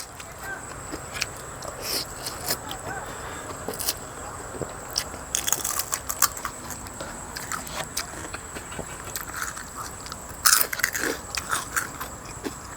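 Someone eats crunchy pork cracklings up close, biting and chewing in irregular crisp crunches with louder bursts among quieter mouth sounds and faint background noise.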